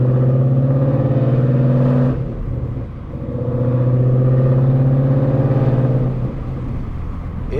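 Deep exhaust rumble from a Ford Mustang GT with loud headers and axle-back mufflers, loud and close, rising in two accelerating pulls with a dip between shifts.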